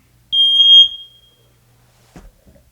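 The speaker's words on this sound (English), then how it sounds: "Checking the smoke alarm in this bedroom." A single shrill, high-pitched electronic beep of a smoke alarm being tested sounds for about half a second in an otherwise quiet bedroom, followed by a faint thump.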